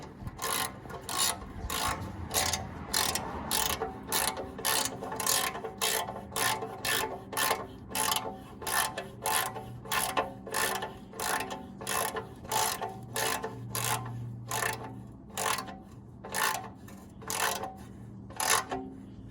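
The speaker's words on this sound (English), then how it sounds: "We'll get a wrench on this and snug it up." Ratcheting wrench with a 16 mm socket snugging the oil drain plug on a Ford Ranger 3.0 V6, a close, steady run of rapid clicking strokes repeating rhythmically for nearly twenty seconds.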